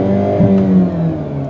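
A 2022 Hyundai Elantra N plays its virtual engine sound in TCR mode on a circuit, a steady, loud buzzing engine note with a brief rev swell early on, no talking.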